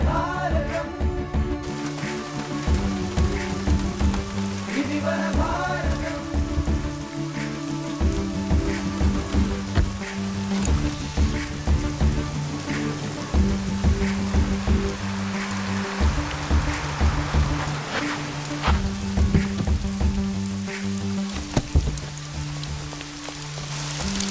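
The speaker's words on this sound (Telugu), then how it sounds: "రాజమ్మా ఏంటమ్మా ఈ వర్షంలో ఈ రాత్రిపూట ఏంటి" Steady rain patters at night throughout, a continuous wash of drops with a low drone and some tonal sounds layered underneath, no voices.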